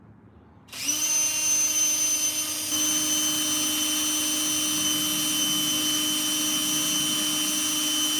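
A power drill spins up sharply after a short quiet lead-in and holds a steady high whine while boring small holes through thin metal taped in place for emblem and badge holes, close and loud throughout.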